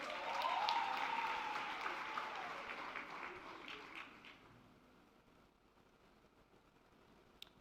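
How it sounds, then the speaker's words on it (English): A hall full of people applauds at a university graduation ceremony for the Faculty of Science and Agriculture, with loud clapping at first that thins and fades over a few seconds into near quiet. "Let's give them a round of applause"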